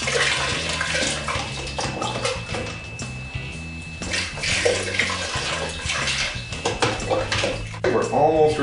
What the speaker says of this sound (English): We'll just give this a quick rinse. And again with the wand.